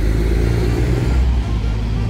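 Traffic on a main road with trucks passing, a loud, close, low engine rumble and whir that swells and eases slightly as vehicles go by.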